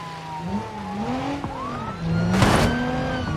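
A police car siren in BeamNG.drive wails in rising and falling sweeps over a running car engine, with a sharp burst of noise near the end.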